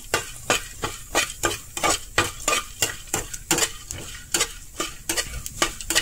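Pumpkin seeds rattle and scrape in a hot pan as a utensil stirs them in quick, regular strokes, about two per second, with a light sizzle underneath.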